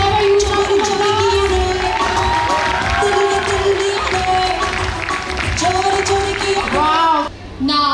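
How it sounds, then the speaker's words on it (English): Crowd applause and cheering at a college hostel freshers' day event, continuous and lively but partly buried under loud music with singing. "Can we have a huge round of applause?"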